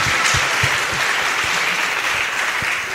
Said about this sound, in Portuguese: Aplausos pra Gabriela.